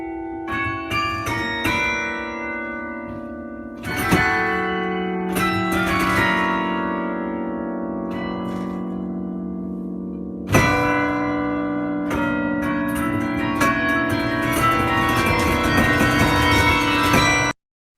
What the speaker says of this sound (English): We may have to listen to the carillon again before we get to it